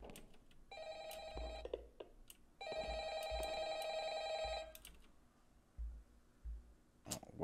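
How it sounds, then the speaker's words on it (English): A telephone rings in the video game Employee of the Month, two long electronic bell trills separated by a pause, fairly close and clear, with scattered clicks and soft thumps around them. "Phone's ringing."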